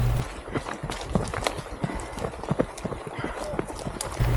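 Running footsteps on a mountain trail during a trail run in Taebaek, a rapid irregular patter of quick steps close by, with a voice briefly heard.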